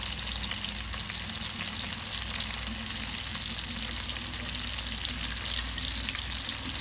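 Onions sizzle in a hot pan with chili powder, turmeric and salt as they are stirred, a continuous, close, even crackle and hiss that holds steady throughout with no speech.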